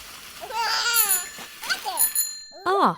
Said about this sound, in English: Ah, that's the bike bell again.